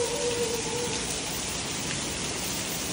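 A steady downpour of heavy rain drums continuously on nearby surfaces, a dense uniform hiss with no breaks and no one talking.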